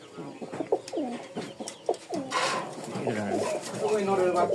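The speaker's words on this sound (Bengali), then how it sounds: "এই এক জোড়া কবুতর টামলা, কোয়ালিটি মাশাআল্লাহ খুবই সুন্দর" A pair of Turkish tumbler pigeons coos close by in a series of soft, repeated rolling coos, mixed with brief chirps, while a person talks over them.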